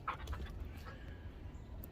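A puppy whimpers and whines faintly in a quiet room, soft high-pitched cries with a little panting over low background rumble.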